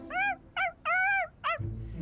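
A cartoon dog gives four close, loud vocal bursts in quick succession, with short whimpering yelps that rise and fall in pitch.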